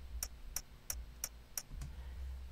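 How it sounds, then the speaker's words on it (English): Metallic flicks on the lens hood of a Canonet QL17 film camera: five crisp, bright ticks at an even pace, then a sixth softer one, close and dry over a quiet background. "I had kind of flicked the lens hood a little bit, and I got this sort of metallic sound that I thought would be perfect for a hat."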